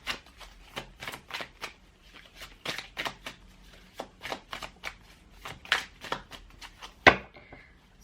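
Tarot cards are shuffled steadily up close, a repeating series of soft papery swishes and flicks at an even rhythm, ending with a sharper snap.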